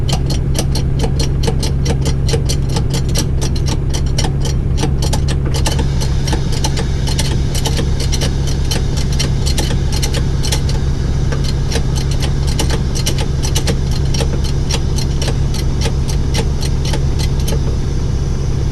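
A Dennis Dart bus's air suspension leveling valve clicks in a rapid, steady series of sharp ticks over the loud, continuous drone of the idling engine, heard close up for the whole stretch.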